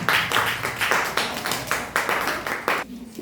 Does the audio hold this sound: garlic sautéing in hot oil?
no